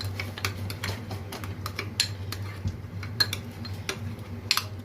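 A spoon stirring homemade pizza sauce with tomato, chili flakes and spices, giving close, irregular light clinks and scrapes against a bowl over a steady low hum.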